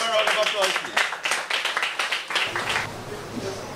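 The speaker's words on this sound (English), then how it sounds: "Give him a round of applause, please." A burst of crowd clapping and applause filling a theatre, fairly loud and sustained, fading slightly toward the end.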